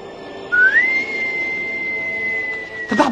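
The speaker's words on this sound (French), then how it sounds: "Il a sifflé!" A person whistles a single clear note that slides upward and then holds steady for about two seconds, loud and close, cut off by a brief noisy knock at the end.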